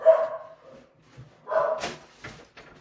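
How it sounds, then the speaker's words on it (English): A dog barks twice close by, a few short, sharp woofs with a quieter yip-like sound after. Gaps of near silence fall between the barks, and nobody talks. "my dog would just go mental when I started the podcast and the Facebook Live"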